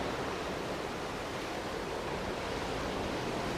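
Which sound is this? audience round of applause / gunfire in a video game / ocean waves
ocean waves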